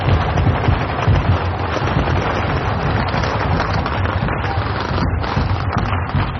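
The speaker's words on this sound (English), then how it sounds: "Firecrackers going off all over the place." Firecrackers burst nonstop during a street procession at Chinese New Year, a loud, dense crackling barrage that fills the whole stretch without pause.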